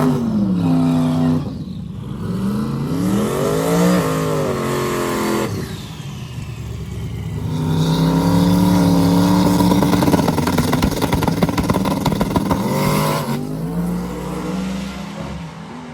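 A Camaro and another drag car make a drag racing pass at a drag-and-drive event, engines revving and roaring through gear changes, loud and close for the whole stretch, the pitch sweeping up and dropping repeatedly.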